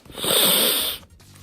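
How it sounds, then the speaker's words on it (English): A close, loud sniff drawn in at a sneaker's leather-like grippy ankle lining, inside a LeBron 16 BattleKnit 2.0, lasting about a second before the breath cuts off. "After you take a sniff of it"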